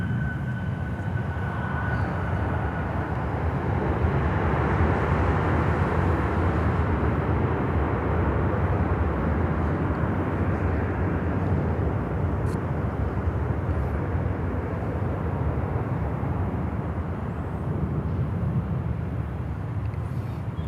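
An American Airlines aircraft at Miami Airport gives off a continuous broad engine roar that holds steady for a long stretch and tapers slightly at the end, with no voices.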